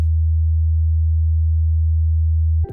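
Low 80 Hz sine test tone, a constant pure hum held at full loudness for over two and a half seconds before stopping suddenly, with a short snippet of other sound after.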